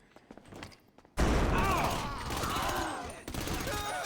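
Gunfire erupts in a Grand Theft Auto V mission ambush: a sudden, loud fusillade of rapid shots after a quiet opening, with a brief dip before more bursts near the end, mixed with whining game effects.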